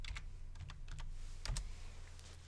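Quick bursts of typing on a computer keyboard as a short folder name is entered, crisp close key clicks in a few uneven clusters, quiet and alone.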